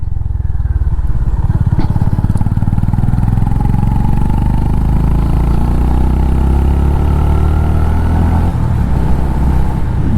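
Honda H'ness CB 350 motorcycle engine pulling in second gear, a loud, continuous near engine note whose pitch climbs steadily as the bike accelerates, with no talking.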